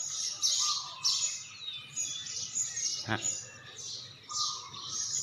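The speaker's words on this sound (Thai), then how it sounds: "นกพิราบ" Birdlike chirps and calls repeat in short bursts around the grounds of a Thai temple where pigeons gather, moderately close, with a sharp knock partway through and low background murmur.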